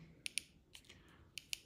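Buttons are pressed on the display panel of a Hiley Tiger King 2x1500W 60V 26Ah electric scooter, giving about six faint, sharp clicks in quick, uneven succession, close up and without talk.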